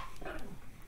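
Dogs playing and wrestling indoors at night, giving a brief burst of close yips, whimpers and scuffling growls with no one talking.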